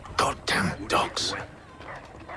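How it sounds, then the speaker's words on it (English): Several dogs bark in the video game Assassin's Creed 3, four quick loud yapping barks in a row followed by fainter ones, with game speech mixed in. "Dogs."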